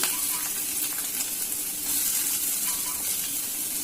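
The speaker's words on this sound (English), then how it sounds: "So we'll fry the onion." Onion fries in a pan, a loud, continuous bright hiss and sizzle with gentle bubbling texture throughout, close up and without talk.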